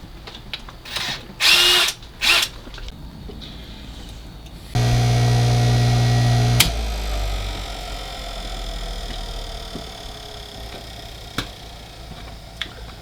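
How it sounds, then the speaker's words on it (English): An electric motor is plugged in and hums loudly for about two seconds, then cuts off with a sharp click, followed by faint clicks and scattered handling noise; short bursts of rubbing come before it starts. "Now I'm gonna go plug this motor in and see if it fries everything"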